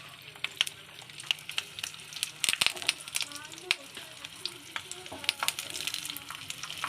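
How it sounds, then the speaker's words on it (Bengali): Pathuri parcels of kochur loti frying slowly in a pan on low flame, with a soft sizzle under scattered crackles, pops and utensil scrapes, close and fairly quiet, while a voice talks faintly in the background. "লো ফ্লেমে রেখে এটা আস্তে আস্তে ভেজে নিতে হবে"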